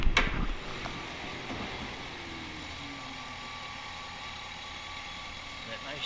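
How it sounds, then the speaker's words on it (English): A 2010 GMC Sierra pickup with a Chevy engine idles steadily at close range, a low even rumble after a brief loud knock at the start. "Chevy engine just purring away."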